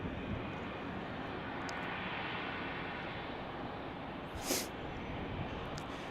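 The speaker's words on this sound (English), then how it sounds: "So like this Delta flight that just took off" A Delta airliner taking off at Salt Lake City airport gives a steady, broad jet roar heard from some distance. It holds level throughout, with no voices over it.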